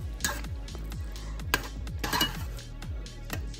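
Chicken pasta being stirred in a metal pan: rapid, repeated scraping clinks of a utensil against the pan in a steady rhythm, with a soft sizzle underneath and no talking.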